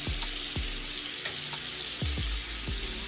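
Seafood fries in a hot pan with a steady, close sizzle throughout, broken by a few soft clicks and taps as pieces are flipped over.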